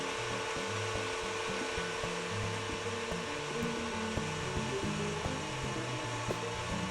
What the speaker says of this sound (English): I'm going to turn the mixer on. It's going to get a little noisy.